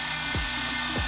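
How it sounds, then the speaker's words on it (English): A Dremel rotary tool fitted with a 1x16 drill bit gives a steady, high-pitched whine with two brief low dips in pitch, close and alone. "I'm gonna use this Dremel here"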